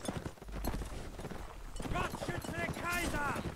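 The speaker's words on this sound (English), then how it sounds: "Oh, there's a horse." Horse hooves clip-clopping in Mount and Blade: Napoleonic Wars, a quick rhythmic clatter under excited talking and shouting.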